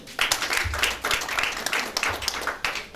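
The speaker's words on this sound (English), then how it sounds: "If you come to pass, yes, clap for him again." An audience at an institute council ceremony applauds for a potential permanent secretary, with scattered claps mixed with low chatter and murmur that run steadily through the whole stretch.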